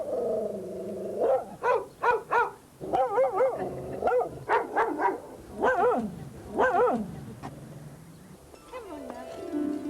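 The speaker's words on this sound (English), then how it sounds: "2 barking dogs in a square where no animals were allowed" Two dogs bark repeatedly in an open town square, a run of loud, closely spaced barks and yips with short pauses, some higher whining tones toward the end.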